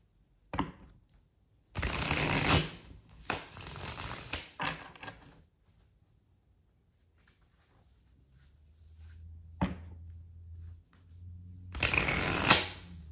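A tarot card deck is shuffled in several bursts of riffling and flicking, close and crisp, separated by quiet pauses.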